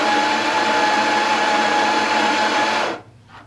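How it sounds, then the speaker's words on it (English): A Mahlkonig ProM coffee grinder grinds an espresso dose into a portafilter: a loud, steady, close motor whine with a faint constant tone that cuts off sharply near the end, leaving quiet residual noise. "So I just put in my portafilter and it will grind the predetermined amount of time."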